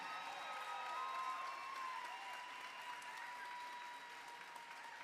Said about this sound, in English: clap for yourself, because we're here for a reason